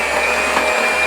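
An electric mixer whirring steadily through cookie dough, a loud close motor drone with a brief dip in the low end partway through.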